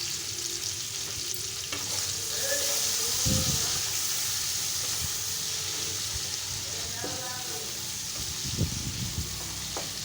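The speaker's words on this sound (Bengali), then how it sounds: "মশলার সাথে ভেজে নেব।" Tomatoes with salt, turmeric and spices fry in a pan, a continuous soft sizzle with occasional stirring scrapes and a brief swell of hissing partway through, fairly quiet and without talk.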